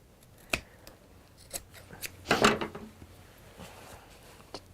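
Scissors trimming the edge off a piece of fabric during textile sewing, a few quiet snips with one louder cluster of cutting in the middle, close and soft with light handling noise.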